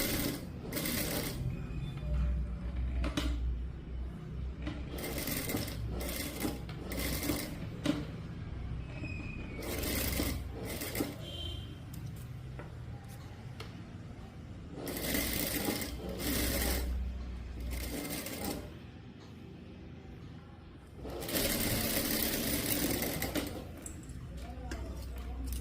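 A sewing machine stitches the lining of a princess-cut blouse in short bursts of fast rattling, close and fairly quiet, separated by pauses with soft fabric handling.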